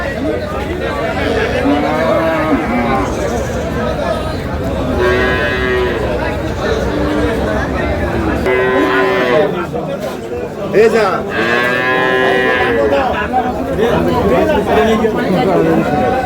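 Dairy cows and calves at a cattle market, the Aftabganj haat in Dinajpur, give repeated loud moos close by amid a busy crowd of chattering people.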